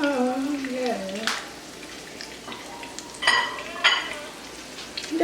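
Food frying in a pan gives a steady, broadband sizzle, with a few louder bursts of stirring or pan clatter near the end. A voice sings over the first second.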